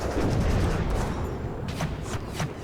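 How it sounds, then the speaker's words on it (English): A bomb detonates in the Warno strategy game, producing a loud sustained rumbling blast with crackling bursts of gunfire-like pops layered over a heavy low boom. "Four of them destroyed with one bomb."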